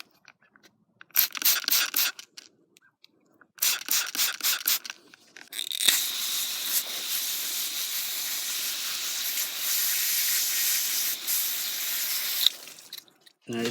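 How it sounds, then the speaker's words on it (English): Short bursts of spray from a bottle of Simple Green cleaner hit an RC car bearing, followed by a long steady hiss of water hosing it off, close and loud without talk. "spray it with some Simple Green, hose it off with water, blow this off again"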